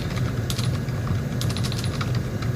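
Bursts of clicky typing on a computer keyboard while writing code, close and fairly loud over a steady low hum, with short pauses between flurries of keystrokes.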